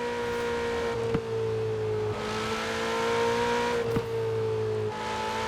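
Ferrari 488 Pista engine heard from outside the car in Forza Horizon 4, a steady droning tone shifting pitch with gear changes and two sharp pops, no talk.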